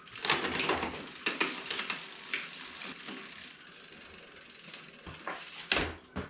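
Bicycle chainring bolts tightened with a hand tool, giving a run of quick metallic ratcheting clicks and taps at close range, with brief louder bursts near the start and end.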